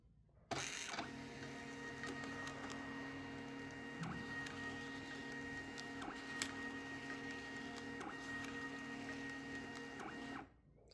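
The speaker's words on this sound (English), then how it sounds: "now that my tags have printed" A label printer feeds and prints a run of PE tags, with a steady mechanical whirr and hum that starts abruptly, holds at a constant level for about ten seconds, then stops. A few faint clicks sit within the drone.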